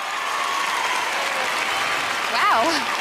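Steady, dense applause from a large studio audience fills the whole stretch at an even level, with a voice briefly rising over the clapping near the end.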